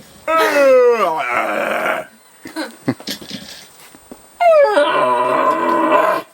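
A voice imitates a stag's roar in two long, loud, falling bellows, with a short pause of scattered quieter sounds and breaths between them.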